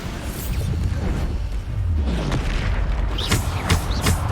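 Bombarda blast spell exploding in Hogwarts Legacy: loud, dense booming with whooshing bursts and a thick low rumble that continues throughout.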